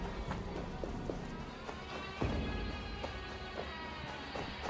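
Horse hooves clip-clopping in Assassin's Creed Valhalla, a game set in Hamtunscire: irregular hoof taps under a dense wash of ambient game noise, moderately close and continuous.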